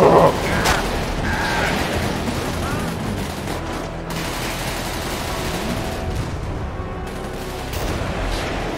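Rapid gunfire rattles from a firing line of people in GTA 5 roleplay, dense continuous shots and bursts throughout, with faint voices underneath.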